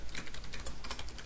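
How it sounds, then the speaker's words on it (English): Rapid, irregular keystrokes on a computer keyboard while HTML code is typed, a steady close-up clatter of clicks with no talking. "then I can start my HTML typing"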